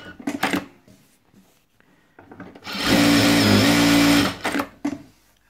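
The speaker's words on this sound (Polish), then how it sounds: "Ta maszyna szyje." A Jack A2 industrial sewing machine stitches in one loud, steady burst of about a second and a half at high speed, with quieter handling clatter before and after.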